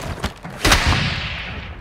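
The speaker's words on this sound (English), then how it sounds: "I'm taking fire!" Gunfire in Call of Duty: Warzone 2.0, a few sharp broadband shots, the loudest near the middle, followed by a rumbling decaying tail with no talk.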